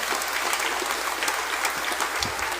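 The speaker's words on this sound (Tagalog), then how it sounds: "Pumalakpak ng malakas." A church congregation at a Simbang Gabi Mass claps loudly and continuously, a dense, even wash of applause filling the room throughout without a break.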